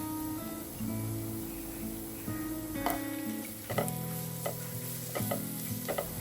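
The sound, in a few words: stirring chicken with masala spices in a frying pan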